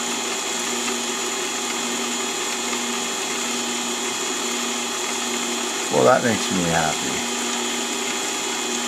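A mini-lathe hums and whines steadily while a 0.5mm drill bit bores a tiny hole, and someone speaks briefly near the end over the motor.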